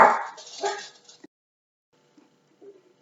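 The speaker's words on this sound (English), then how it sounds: "So the dogs had a freak out" Dogs give a brief burst of barking and whimpering nearby, loud at first and quickly dying away, followed by near silence with only a faint whine or two.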